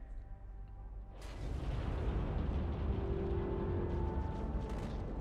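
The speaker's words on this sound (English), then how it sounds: "as we watch this sad explosion" An explosion goes off in Halo 2: Anniversary on the Cairo Station level, a sudden loud burst after a quiet start that rolls into a sustained, rumbling roar.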